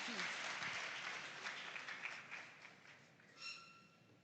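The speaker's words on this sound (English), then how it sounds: "Please, a round of applause for St. Joseph's Technical Institute." Audience applause at a school farm awards grand final, a steady patter of many hands clapping that gradually thins toward the end, with faint voices near the close.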